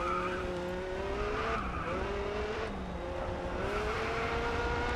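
Race car in the GRID Autosport video game pulling away, engine revving up through several gear changes with rising harmonic sweeps and faint tyre noise, loud and steady throughout.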